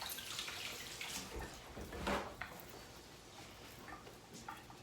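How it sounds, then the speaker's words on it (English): Sticky hands, coated with orange juice, are washed under a running kitchen tap, making a faint, steady trickle and splash of water with small irregular sloshes. It is quiet and close, with no talking. "All right, let me wash my hands because now they're sticky."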